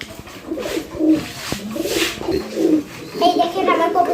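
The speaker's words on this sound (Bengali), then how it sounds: "এই দেখেন আমার কবুতরগুলো সুস্থ আছে" Pigeons on a pigeon farm in hot weather coo close by in a repeated rhythmic series of soft, throaty calls with a few sharper bird sounds mixed in.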